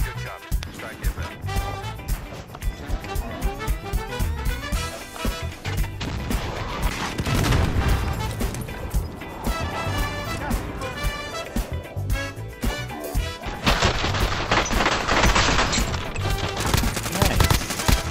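Airstrike explosions and gunfire in Call of Duty Warzone, with repeated heavy impacts and crackling shots packed densely over game music and a radio voice announcing the strike, growing louder near the end.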